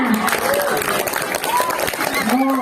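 Audience applause at an Isra Mi'raj sermon fills the space with a dense, steady patter of many hands clapping, while voices carry over it throughout.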